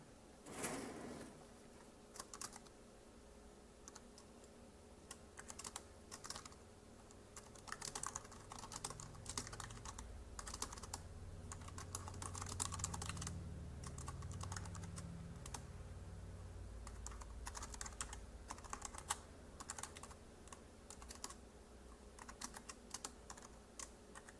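Someone types on a computer keyboard in irregular bursts of quick, faint clicks and key taps, with brief pauses between runs, heard close up over a low steady background hum.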